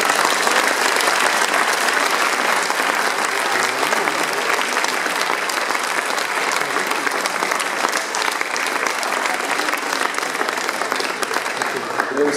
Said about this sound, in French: Et je vous demande aussi de les applaudir,